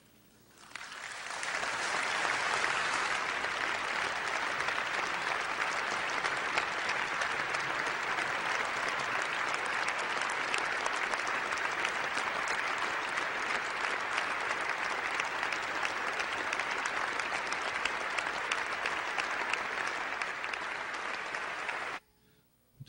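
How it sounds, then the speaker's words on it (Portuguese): A long ovation for a girl, a large crowd's sustained, dense applause rising quickly and holding at an even, loud level for about twenty seconds before cutting off abruptly. "Essas palmas aí duraram aproximadamente uns 3 a 4 minutos."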